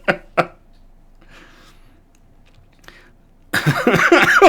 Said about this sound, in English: Oh, you got me coughing.